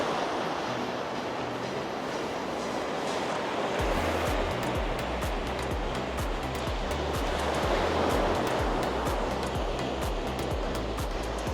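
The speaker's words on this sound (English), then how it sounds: "Hear them little waves." Steady broadband wash of small sea waves on the shore at Blackpool with the tide coming in, continuous and fairly loud, with a rumbling low undertone and no voices.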